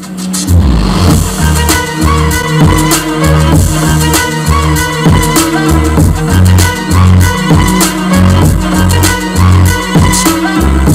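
A song with heavy, thumping bass beats plays loudly and continuously through a boAt Aavante Bar STARK TV soundbar with four 2.25-inch drivers, the low end pulsing in a steady rhythm throughout.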